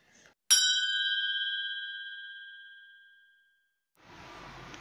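Single bright notification bell ding, struck once and ringing clear with a long decaying tone for about three seconds before fading, followed by a burst of background noise.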